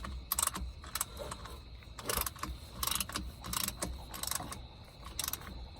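Ratchet wrench clicking in short bursts as a fill plug is tightened on the NP231 transfer case of a Jeep Cherokee, close up, with irregular pauses between strokes.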